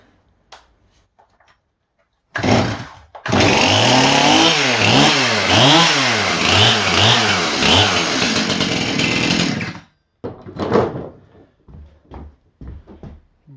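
A STIHL chainsaw's small engine fires up after being choked and runs loud for about six seconds, its pitch rising and falling as the throttle is revved, then cuts out; a brief cough comes before it, and faint sounds follow.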